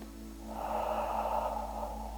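A slow, deep breath during a seated chair yoga session: one long, steady, airy inhale-exhale swelling and easing over a couple of seconds, close and alone over a faint low hum.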